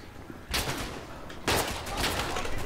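Gunfire in the World War I video game Verdun, two loud volleys of shots, the first around half a second in and the second about a second later, followed by continued rattling fire.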